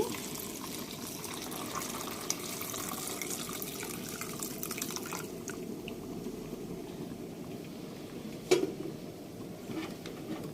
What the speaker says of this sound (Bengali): দুধটা দিয়ে দিচ্ছি